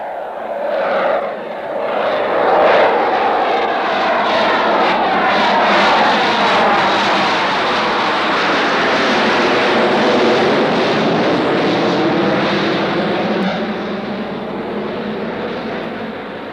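A TWA airliner cruises on Flight 906 to Rio de Janeiro, its engines making a loud, steady, broadband roar that continues unbroken for the whole stretch, with no voices over it.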